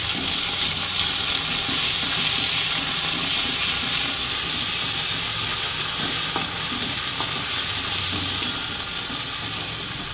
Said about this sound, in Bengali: পেঁয়াজটা আমার ভাজা হয়ে গেছে, আমি এবার এর মধ্যে 1 টিস্পুন আদা দিয়ে দিলাম।